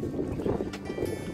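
Steady wind buffets a fishing boat out at sea off Kuwait, a continuous low rushing roar with gusty swells, close to the microphone and without voices.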